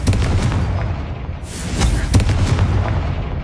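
A Confringo blasting spell cast in Hogwarts Legacy lands as a loud, booming burst followed by rumbling, crackling debris and a second sharp impact, all over continuous low battle noise with no talk.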